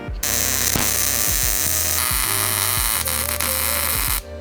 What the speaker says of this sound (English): So we're going to go ahead and weld our big nuts onto here.